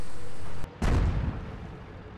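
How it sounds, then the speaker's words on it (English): Artillery fire in the tank battle game World of Tanks: a single loud, booming blast hits after a brief cut in the background, then fades into a low rolling rumble. "Yay, Allied artillery to the rescue."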